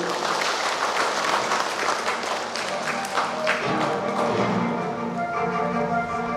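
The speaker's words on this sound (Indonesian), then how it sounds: "Boleh tepuk tangan semuanya Bapak Ibu." Steady applause from a seated audience at a large umrah pilgrimage training gathering, dense clapping throughout with music tones emerging as it fades toward the end.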